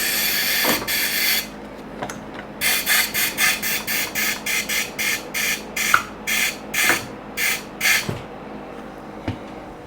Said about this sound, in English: Next, I can lock the wheel to the tire machine.